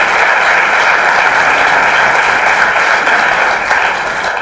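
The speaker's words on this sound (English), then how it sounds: "may I request you to give a thunderous applause to them" Thunderous applause from an awards ceremony audience, a dense, steady wash of many hands clapping at full volume throughout, easing slightly toward the end.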